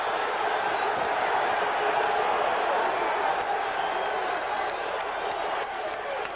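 A football stadium crowd roars steadily at a 1989 Saints at Packers game, a dense, even wash of cheering that holds throughout and dips slightly near the end.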